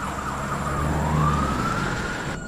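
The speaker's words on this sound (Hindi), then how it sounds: "तब जाकर एम्बुलेंस आई।" An emergency siren wails at moderate distance, a single long tone gliding upward over a low steady traffic rumble.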